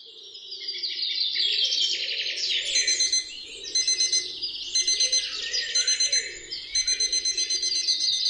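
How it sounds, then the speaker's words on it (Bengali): A mobile phone alarm rings at dawn, a bright chirping, bird-like electronic melody repeating in quick patterned bursts, loud and close, with a low soft tone and music underneath. "বুধদার মোবাইলের অ্যালার্মের শব্দে যখন ঘুম ভাঙল"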